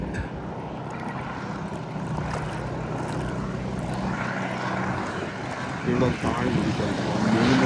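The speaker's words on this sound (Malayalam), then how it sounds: "ആ ബോട്ട് അവർ സ്റ്റാർട്ട് ചെയ്തു കേട്ടോ." A boat motor runs on open water off Adelaide in South Australia, a continuous low drone with a faint rumble that grows slightly louder toward the end, mixed with outdoor ambience.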